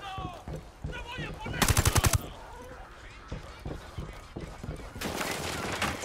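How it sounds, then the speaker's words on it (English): Loud automatic gunfire from a Ghost Recon Wildlands firefight, with a dense burst of rapid shots early and a second volley near the end, and a voice heard between the bursts. "I'm opening fire on these shitheads."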